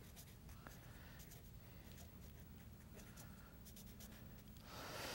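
A pen or pencil scratches quietly across paper as a name is written, soft intermittent strokes over a low background hum, with a louder rustle at the very end.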